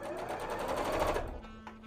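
A sewing machine stitches tulle ruffles in a steady, rapid mechanical whir that runs continuously before slowing and stopping near the end.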